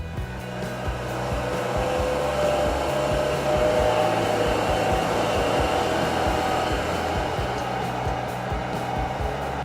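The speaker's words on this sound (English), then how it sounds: "Power rollers move the wood through the machine." A Wood-Mizer MP260 planer moulder runs with its power feed rollers engaged, giving a loud, continuous roaring whine that holds steady without pause.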